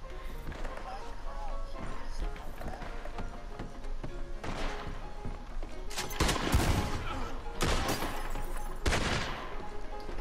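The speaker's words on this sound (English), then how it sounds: "The fuck is shooting?" Gunfire in Red Dead Online during a shootout in Valentine, with scattered shots that build into loud bursts of rapid fire, while hoofbeats and running sound under the shooting.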